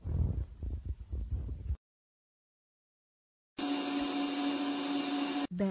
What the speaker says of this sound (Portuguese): 10 minutos na batedeira com o batedor de gancho.